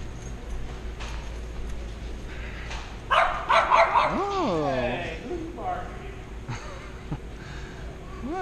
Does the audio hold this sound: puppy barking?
yes